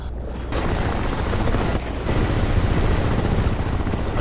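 A helicopter from the shooter game Crysis, a loud continuous rotor roar close overhead that holds steady and briefly dips before swelling again.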